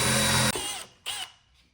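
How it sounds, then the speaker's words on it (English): A power drill fitted with a 5/16 bit bores through a wooden ledger board for a floating mantel, whining loudly and steadily, then cutting off, followed by two shorter bursts of drilling. "First step is to drill through the ledger."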